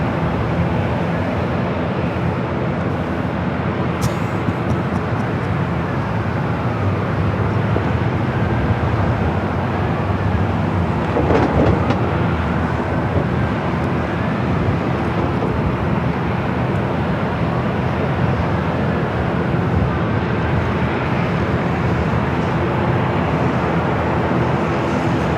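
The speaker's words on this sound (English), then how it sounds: "Next arrival is a heavy American Airlines flight 26 coming from Tokyo Haneda" An American Airlines Boeing 787-9 Dreamliner, a heavy jet arriving at LAX from Tokyo Haneda, drones steadily for the whole stretch as a broad, continuous engine roar with little rise or fall, holding a loud, even level throughout.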